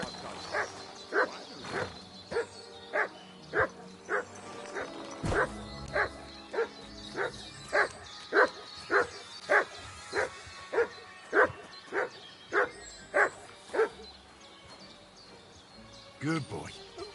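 Dog barking in Kingdom Come: Deliverance 2, a steady run of about twenty sharp, evenly spaced barks close by, with a brief pause near the end before a final bark.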